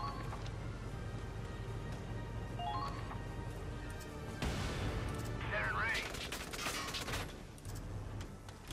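Bursts of anti-armor shells in the video game Valkyria Chronicles 4 sound as rapid volleys of gunfire-like blasts over a dense, noisy battle backdrop, with a sharper cluster of reports near the middle.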